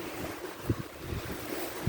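Strong wind roars over a coastline at night while big waves surge and break nearby, with a few heavier thumps of surf standing out from the continuous wash.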